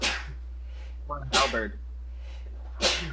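Three sharp sneezes burst out at roughly even intervals during a tabletop role-playing game session, with a voice speaking briefly between them over a steady low hum.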